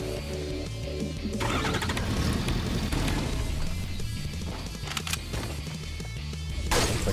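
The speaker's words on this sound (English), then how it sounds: "Oh, does that guy hear me getting in the truck?" A truck engine in the Fortnite video game starts and keeps running steadily for several seconds, loud and close, under a busy mix of in-game effects with a few sharp clanks and a brighter burst near the end.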